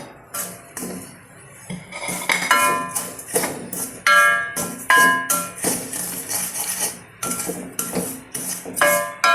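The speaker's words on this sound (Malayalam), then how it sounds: "അതിട്ട് നമുക്കൊന്നും കൂടെ അത് മിക്സ് ചെയ്യാം" Crushed murukku being stirred in a metal pan, with a steady run of bright metallic clinks and scrapes from the spoon striking the pan, close and fairly loud, with no talking.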